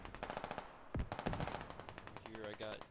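Rapid bursts of machine gun fire from a vehicle's top-mounted gun in a squad-based military video game, steady chattering rounds with a couple of heavier thumps, voices talking faintly underneath.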